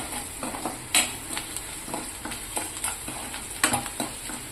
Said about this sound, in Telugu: వేసుకొని ఒకసారి కలిపేసుకోండి